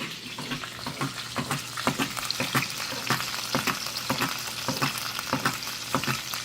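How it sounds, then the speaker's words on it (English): Grease bubbles and sizzles in a pan while already-cooked sausage is warmed, a steady crackling fry with rapid irregular pops, close and moderately loud, with no voices. "The bubbling of the grease."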